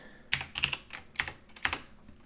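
Computer keyboard keys are tapped in a quick, uneven burst of about six crisp clicks, close and quiet, with no talking.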